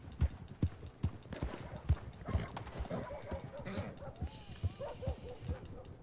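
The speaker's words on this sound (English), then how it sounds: "Oh, my horse is moving so slow." Horse hooves clip-clopping in the Red Dead Online video game, a rapid irregular run of hoof thuds across the whole stretch, mixed with other game sounds and a person talking over it.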